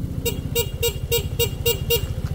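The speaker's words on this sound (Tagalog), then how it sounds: "Bali pag naka-off yan, ang businang tutunog yung stock horn." A Rusi RFI 175 motorcycle sounds its stock horn in a quick series of seven short, evenly spaced toots, loud and close over a low idling engine rumble, with no talking.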